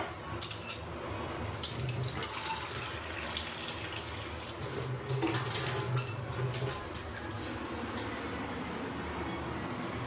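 Running tap water pours into a bowl in a home kitchen while cooking potol dhoka curry, a steady broadband splash lasting throughout with faint clinks of dishes, no talking.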